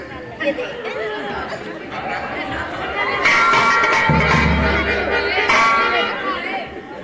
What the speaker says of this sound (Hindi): ये भारी भीड़ भाड़ क्यों है? ये अभी शोर सा कैसा था?